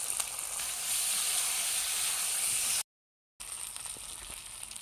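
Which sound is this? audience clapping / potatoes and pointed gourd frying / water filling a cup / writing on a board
potatoes and pointed gourd frying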